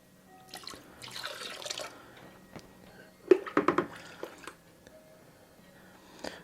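Zep multipurpose pine cleaner poured into a bucket of hot water for floor cleaning: sporadic drips and a short cluster of splashy pours, close but fairly quiet, with brief faint background noise.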